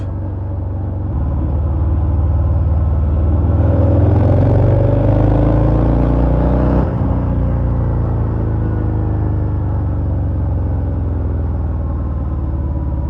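A 2023 Harley-Davidson Fat Bob 114, a heavy 300 kg motorcycle, accelerates hard with a loud, close engine rumble, the revs climbing, dropping briefly at a gear change, then building again under steady wind noise.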